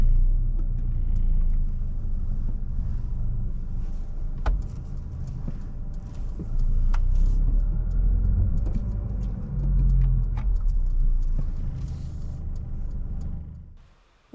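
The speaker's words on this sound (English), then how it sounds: "Drive off when you're ready." Car pulling away from a parked position on the right-hand side of the road, heard from inside as a steady low engine rumble with mild rises in revs and a few small clicks, fading out at the end.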